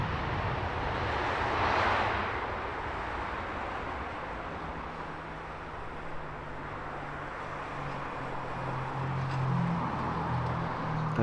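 A Boeing 787 Dreamliner at Heathrow Airport produces a distant, steady jet roar with a broad windy rush that swells briefly and stays fairly faint throughout.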